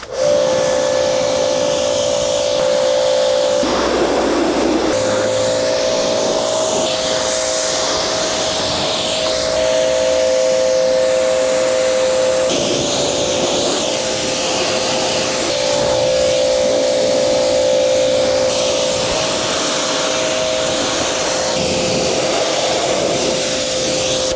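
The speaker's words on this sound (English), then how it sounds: "if I can rinse the entire roof, I'm gonna go ahead and do that" A pressure washer rinsing a car roof during a DIY hybrid car wash: a loud, steady spray roar with a constant motor whine running for the whole stretch, close by and with no talking.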